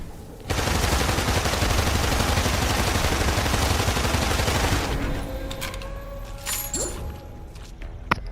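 Rapid, sustained machine gun fire in the video game Immortal Redneck rattles loudly for about four seconds, then gives way to scattered clinks, a metallic mechanism sound and quieter game effects.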